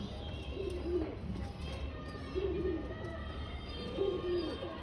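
Pigeons coo in a home loft, giving three soft, rolling coo phrases spaced a second or so apart over faint, constant background noise.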